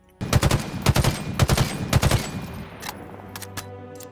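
Halo's Battle Rifle from the video game fires in tight, loud three-round bursts, about five bursts in quick succession, then a few sparser, quieter shots as the reverberation fades.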